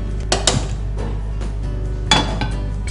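A metal pan clanks a few times as it is set down and handled on a kitchen stove, with sharp knocks and scrapes over a steady low hum.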